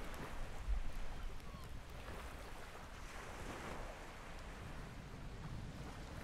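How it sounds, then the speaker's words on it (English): Steady rain falls in the survival video game Project Castaway, a dense, even wash of noise that runs the whole stretch at moderate loudness with a voice talking over it. "Okay, rain is gonna fall,"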